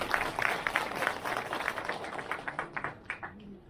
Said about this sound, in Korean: 회장 대광 양성기 큰 박수 부탁드리겠습니다.